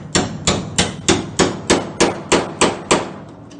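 Hammer driving a chisel to split spot-welded steel car panels apart: ten sharp, evenly spaced metallic blows about a third of a second apart, loud and close, each ringing briefly before the next.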